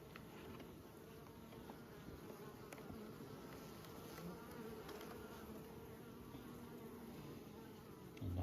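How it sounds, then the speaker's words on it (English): Honey bees hum steadily around an open hive during a brood inspection, a continuous low, even buzz close by that holds through the whole stretch with no talk over it. "Lovely quiet bees."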